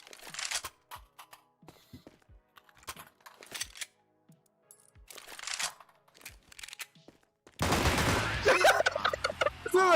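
Sharp gunshots and bursts of fire from the video game CS:GO crack out in scattered clusters, ending in a loud, dense volley, with someone talking in between.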